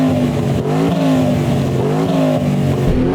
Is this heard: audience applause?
no